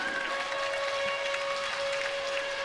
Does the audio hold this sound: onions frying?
no